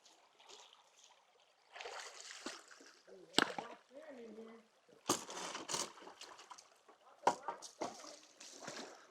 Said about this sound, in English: this is the first pan from the creek